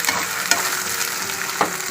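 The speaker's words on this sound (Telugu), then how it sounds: "అల్లం వెల్లుల్లి పేస్ట్ వేసాను ఫ్రెండ్స్. ఇది వేగనిద్దాం" Ginger garlic paste frying in a pan for a mushroom curry, a steady close sizzle with a couple of sharp stirring clicks and scrapes.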